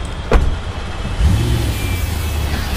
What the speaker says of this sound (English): Get in my car, I'm leaving.